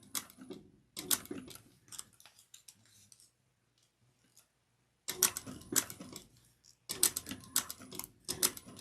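A sewing machine stitches a bucket bag in bursts of rapid mechanical clatter, close and fairly loud, separated by a few seconds of near silence before stitching resumes.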